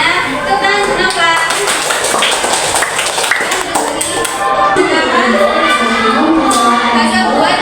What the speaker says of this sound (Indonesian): Tepuk tangan kenapa?